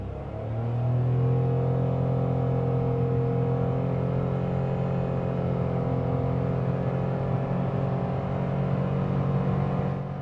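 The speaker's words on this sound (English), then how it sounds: "Let's do a quick acceleration in sport mode, just to give you an idea what it drives like." A 2021 Mitsubishi Mirage accelerating hard in sport mode, heard from inside the cabin as a loud, steady, strained engine drone with rising whine and road rumble, sustained for the whole stretch without talking.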